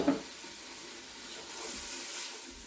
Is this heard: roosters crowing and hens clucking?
no